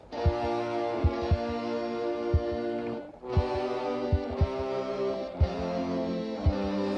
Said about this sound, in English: Layered guitars.